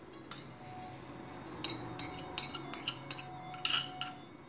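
A spoon stirring cheese into an egg cutlet mixture in a metal bowl, with a run of quick clinks and scrapes against the sides over a low background hum.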